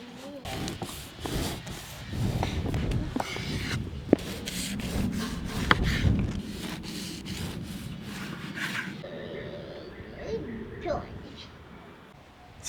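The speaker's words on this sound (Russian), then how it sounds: "сейчас нарежем хлебушек" A knife saws through bread in a home kitchen, giving close, rough strokes that come in bursts over a low background. Someone talks intermittently across the cutting.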